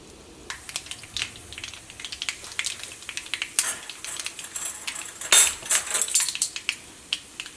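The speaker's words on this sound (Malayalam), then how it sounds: "ഇപ്പോൾ കടുക് പൊട്ടിയിട്ടുണ്ട്." Mustard seeds spluttering in hot coconut oil in a pan, sharp scattered pops and crackles that grow denser and louder toward the middle, with occasional metallic clinks of a utensil.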